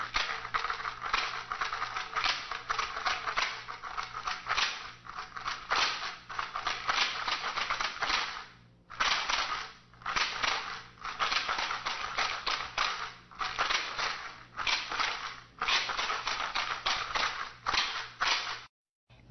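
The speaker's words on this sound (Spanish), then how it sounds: "Este instrumento está hecho con una botella de plástico. Yo le he puesto cáscaras de pistacho" A homemade shaker made from a plastic bottle filled with pistachio shells, shaken in steady rattling bursts, close and fairly quiet, with one short pause midway.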